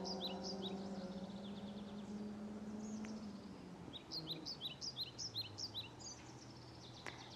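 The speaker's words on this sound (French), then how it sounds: "Avec tous ces oiseaux, tous ces chants." Birds singing outdoors in nature, faint scattered chirps and short trilled phrases over a low background hum, with no talk.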